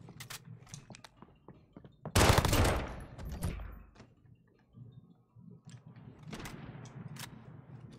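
MP5 submachine gun fire in a team deathmatch shooter game, sharp clicks and short bursts with a loud gunfire burst around the middle, fairly faint overall.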